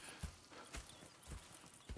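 Horses' hooves clip-clopping in Red Dead Redemption 2, a quiet, uneven series of hoof strikes on the ground, faint and without talk.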